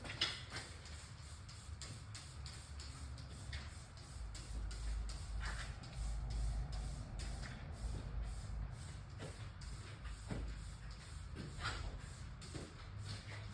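A spray sealant is misted onto a car's paint in repeated short bursts, a soft hissing spray recurring at intervals over a steady low background rumble, fairly close and with no talking.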